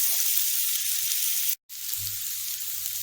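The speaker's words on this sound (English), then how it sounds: "a little dash of curry powder. Stir that in and brown that off." Aubergine, courgette and chickpea curry frying in a pan with curry powder, a steady close sizzle with a brief break midway and faint stirring.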